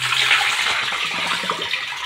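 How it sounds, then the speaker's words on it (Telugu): Rice being washed by hand in water, with continuous sloshing and swishing that stays close and steady, without talk. "ఇప్పుడు ఆ బియ్యాన్ని 2 సార్లు కడగాలి."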